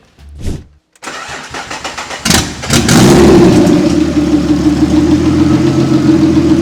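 A BMW E30 engine, a project car of over 1000 horsepower, cranks briefly, catches with a roar, then settles into a steady, loud rumbling idle close by.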